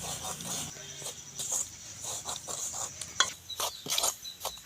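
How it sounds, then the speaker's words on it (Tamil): Semolina (rava) is stirred as it roasts in a pan, a soft, repeated scraping and rustling close by with a faint sizzle underneath, quiet throughout. "ரவை நல்லா வறுபட்டுடுது"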